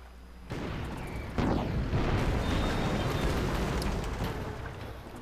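Artillery fire in a British conquest strategy game, heavy booms and rumbling blasts building into a continuous loud barrage of explosions that stays dense and roaring throughout, with no voices.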